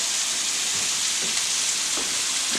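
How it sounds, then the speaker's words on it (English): Scallops searing in a hot pan give a steady, fairly loud broadband sizzle that runs unbroken, with a few soft low pops from the pan scattered through it and no voices. "we're going to let these sear off for about another minute"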